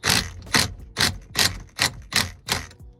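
Impact wrench tightening the nut of a quick release steering wheel on a Lexus IS200 drift car: seven rapid, loud hammering bursts in an even rhythm, each about a quarter second long with short gaps, up close and alone.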